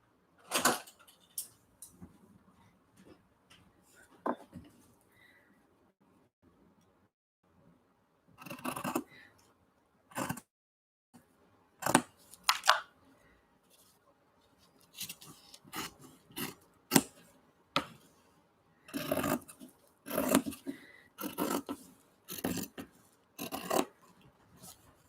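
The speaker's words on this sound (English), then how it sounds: "we're going to cut this out. Get some fabric scissors." Fabric scissors cut out tote bag fabric, with a run of sharp, close snips that come sparse at first and then faster and clustered, with quiet pauses between.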